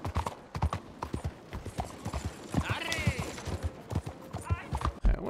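Horse hooves clip-clop in a steady riding rhythm in Red Dead Redemption 2, close and continuous, with someone talking over them throughout.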